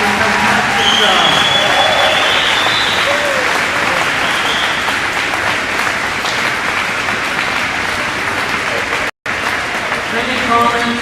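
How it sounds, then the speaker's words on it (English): A gym crowd at a women's volleyball national championship breaks into loud, sustained applause for the players, broad continuous clapping with cheering voices and a brief whistle-like tone, cut by a momentary dropout near the end. "let's have a round of applause for all the players doing a fantastic job"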